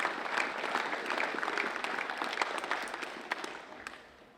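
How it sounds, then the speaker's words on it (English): Quiet, steady applause from a crowd at a women's football Pride Round event, continuing for several seconds before tapering off. "So can we please have a massive round of applause for Beck."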